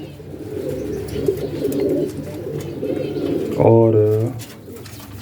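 Pigeons in a pigeon loft coo softly and steadily, with one louder, closer rolling coo near the end, while someone talks quietly in Hindi over them.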